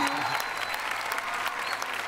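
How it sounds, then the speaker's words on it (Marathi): Audience applause on a Marathi comedy show, dense and steady, filling the whole stretch with a continuous wash of many hands clapping. "लीना भागवत यांच्यासाठी जोरदार टाळ्या झाल्या पाहिजेत"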